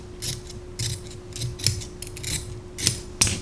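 Scissors cut through skirt fabric along a seam, with about seven crisp, close snips spaced irregularly and a sharper final chop, no voices.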